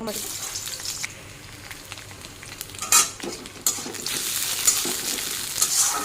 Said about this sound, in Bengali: এখন তেল দিয়ে দিই মশলা নিয়েছি আদা পেঁয়াজ কাঁচা লঙ্কা আর এর মধ্যে দিয়ে দিচ্ছি